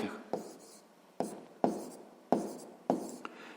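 A pen or pencil scratches out a sixth-grade math solution on paper in a series of short strokes, close and fairly quiet, with a few seconds of steady writing.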